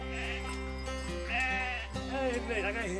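Sheep bleat repeatedly during traditional hand shearing on a farm in Sardinia, several close, wavering cries following one another over a steady low hum.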